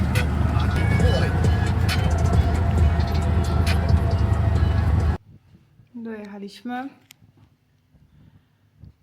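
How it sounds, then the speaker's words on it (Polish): A tuk-tuk labours up a steep mountain road in Sri Lanka's tea plantation hills. Its engine gives a loud, steady, rattling drone for about five seconds, then cuts away to quiet where a voice talks. "droga pod górkę i tym tuktukiem się naprawdę się na ciężko jedzie"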